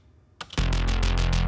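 A retrowave bass line in Ableton, processed with an OTT compressor plugin, starts after a brief pause and pulses loudly in steady, evenly spaced rhythmic notes, bright, dense and heavily compressed, heard alone.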